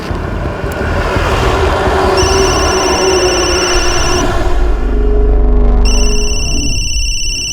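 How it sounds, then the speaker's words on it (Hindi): An electronic phone ringtone sounds in repeating tonal bursts over a loud, rumbling background, with a second ring starting near the end. "फोन उठाओ"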